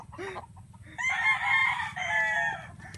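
A fighting rooster gives a short cluck, then one loud, close, drawn-out crow that fills most of the clip over a steady low hum.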